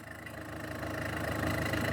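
A diesel car engine idles close by with a steady, rhythmic low rumble and no voices.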